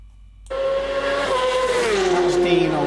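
Racing motorcycles at the Isle of Man Senior TT roar past a roadside spot about two metres from the course, a loud engine note suddenly bursting in after near silence and sweeping downward in pitch as the bikes pass close by.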